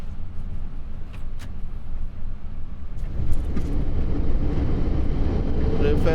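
Boeing 747-8 engines spool into reverse thrust after landing at Jeddah, a broad roar heard from the flight deck that swells and thickens midway and stays loud to the end, with cockpit voices briefly over it.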